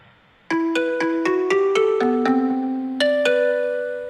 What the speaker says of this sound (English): this beautiful xylophone, is at 120 beats per minute